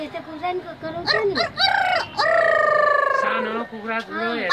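A young woman imitates chicken calls with her voice, giving close, loud clucks that rise into a long, drawn-out rooster-like crow, then fall back into short clucking notes.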